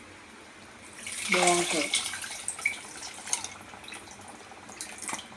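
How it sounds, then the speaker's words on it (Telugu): Tamarind water is poured into a simmering Andhra-style masala prawn curry, a brief splashing pour of about a second amid kitchen sounds, with someone speaking briefly. "చింతపండు పులుసు వేస్తాను దీంట్లో. ఇదిగోండి చింతపండు పులుసు"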